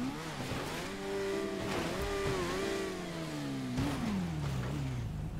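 A motorbike engine in GTA 5 drones steadily and loud throughout, its pitch rising and dipping as the throttle shifts during a parkour run, with no talking over it.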